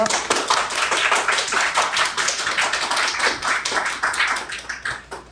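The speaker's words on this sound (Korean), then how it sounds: "나오실 때 박수로 환영하여 주십시오." A church congregation applauds steadily to welcome a pastor, a dense patter of hand claps that holds for several seconds before thinning slightly at the end.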